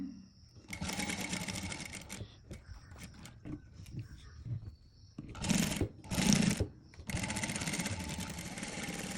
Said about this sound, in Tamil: இங்கே இந்த பக்கம் ஷோல்டருக்கு அதே மாதிரியே தைக்க வேணும்